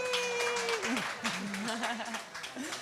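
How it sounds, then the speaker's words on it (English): Studio audience applause and cheering for a lead actor at a live Sundance Film Festival: London studio session, a steady round of clapping under a speaking voice throughout. "Huge round of applause, please."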